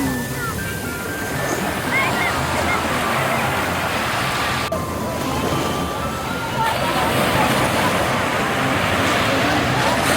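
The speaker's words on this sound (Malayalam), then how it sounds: "എത്ര എണ്ണിയാലും തീരാത്ത തിരകൾ ഇങ്ങനെ വന്നുകൊണ്ടേയിരിക്കും" Waves wash steadily onto the sand at Cherai Beach in the evening, a continuous broad roar close by with faint background noise and occasional distant chatter.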